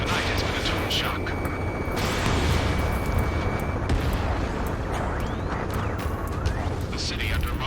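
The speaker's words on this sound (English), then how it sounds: "Gunfire and the roar of jets echoing through the streets" Gunfire and roaring jets echo through city streets in the Ace Combat 7 video game, a dense, continuous wall of rumbling noise with scattered sharp bursts throughout.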